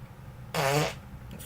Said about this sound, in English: Sorry, fart alert in this one.